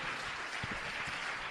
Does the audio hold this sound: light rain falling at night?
no